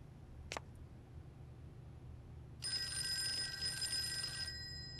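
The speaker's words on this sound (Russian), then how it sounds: "телефон. Кто-нибудь ответит?" Electronic telephone ringing in the horror puzzle video game Fork Road: a brief bell-like chirp near the start, then a sustained bright multi-tone ring for about two seconds over a low ambient hum, no talking.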